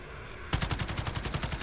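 Bursts of rapid automatic gunshots in Call of Duty: Modern Warfare, a steady rattling string of shots that starts abruptly over low game ambience and stays fairly loud throughout.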